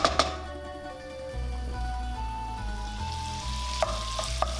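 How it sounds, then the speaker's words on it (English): Pancetta, two four-ounce portions, sizzles gently in a pan as its fat renders, a soft continuous frying hiss with a few sharp clinks of utensils and steady music playing underneath. "We're gonna turn on the heat and start rendering out the fat slowly"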